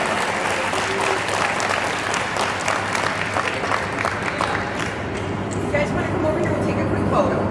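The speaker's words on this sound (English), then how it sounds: "everybody please give both the teachers and recipients a round of applause" An audience at a high school STEM awards ceremony gives a sustained round of applause for teachers and award recipients, steady dense clapping filling the room, with some voices underneath.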